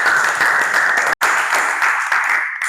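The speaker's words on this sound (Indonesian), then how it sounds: "Oke, tepuk tangan dulu." A classroom audience claps in a dense, steady burst of applause lasting a few seconds, with one brief break midway.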